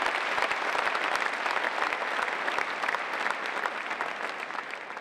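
A concert audience at an Armenian music performance claps steadily and warmly, dense applause from a large crowd filling the room without a break, fading slightly toward the end.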